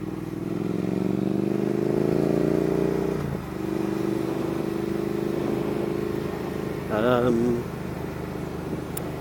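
A Triumph Thruxton R motorcycle being ridden on the road, its engine a steady, close droning hum that drops in pitch as it shifts gear midway, with a brief warbling tone near the end.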